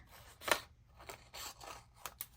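Close scissors snip through paper for a Bible journaling study page, a handful of sharp separate cuts spread over a couple of seconds, with a louder snip early on.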